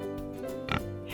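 A voice imitates a pig's oink in a farm animal game for children, giving one short nasal grunt in the middle of a quiet moment.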